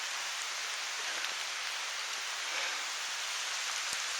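Steady rain falls through the woods as an even, hissing wash of drops with occasional faint ticks, continuous and moderately quiet with no talking.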